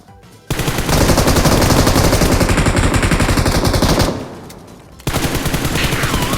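Automatic gunfire sprays at a vehicle's tires in PUBG Mobile, loud rapid bursts of shots in a long stream, a brief lull, then firing resumes.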